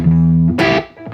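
Les Paul Custom electric guitar on the neck and middle pickups as a humbucker, one note sustaining briefly before a bright strummed chord rings and decays.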